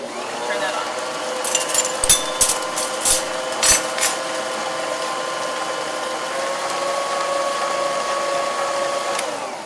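An electric mixer beats cookie dough for chalkboard cookies with a steady, close motor whine. A few clattering knocks come early on, then it settles into an even drone.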